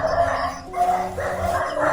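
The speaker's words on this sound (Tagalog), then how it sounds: "Ay, may mga aso pa kasi dito." Dogs barking around an abandoned house, a steady run of overlapping barks and yips at moderate distance, with no talk over them.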